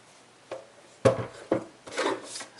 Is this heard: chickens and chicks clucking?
no